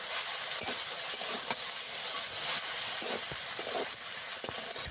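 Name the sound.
spices being sautéed in a pan, sizzling and steam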